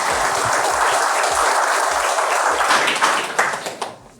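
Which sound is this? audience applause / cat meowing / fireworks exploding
audience applause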